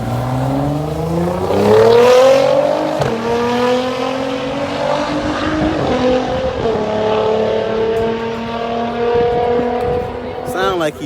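A modded Dodge Challenger races an all-wheel-drive Nissan GTR, loud engines revving and climbing through gears with a brief tire squeal, a missed shift near the end, and voices talking over the roar.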